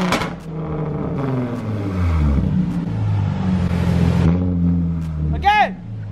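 A car engine revving up and down repeatedly in a car wash bay, rising and falling drones close by, with people talking over it and a short sharp squeal near the end.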